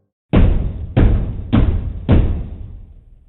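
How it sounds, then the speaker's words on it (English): Foxy bangs on the office door in Five Nights at Freddy's: four heavy, booming thuds in an even rhythm, each ringing out briefly before the next, the last fading away. "it's the banging of Foxy hitting the door."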